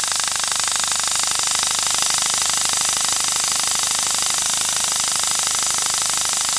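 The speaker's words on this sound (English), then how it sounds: "Dad's now going to grind the valves in using this tool here, which is basically something that we plug into the compressor" An air-powered valve grinding tool, driven by a compressor, grinds valves into a Ford 8 Model Y side-valve engine, giving a steady, loud mechanical whir with rapid rattling that runs unbroken throughout.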